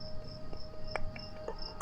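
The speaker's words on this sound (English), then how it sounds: "That was a grasshopper, yeah." A grasshopper chirps in Eden Springs Park, giving faint, scattered short calls over a steady insect drone in a quiet outdoor setting.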